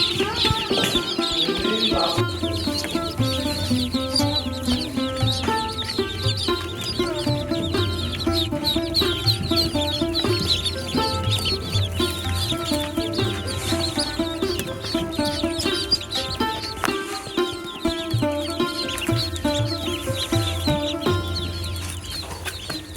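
A crowded chorus of young Pekin ducklings peeps and chatters constantly, many high chirps overlapping closely without pause, from a pen packed with about 150 birds.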